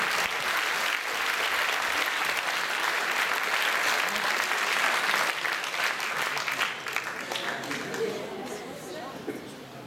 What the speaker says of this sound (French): Je vous demande d'applaudir aussi les autres